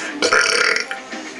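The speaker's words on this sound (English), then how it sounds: "You've been burping for like 10 minutes straight." One long, loud, close-up burp that rumbles for most of a second, then trails off into quiet.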